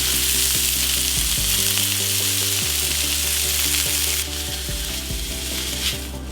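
Beef burger patties sizzle loudly and continuously in a hot pan, a bright frying hiss with mechanical humming tones underneath that shift partway through.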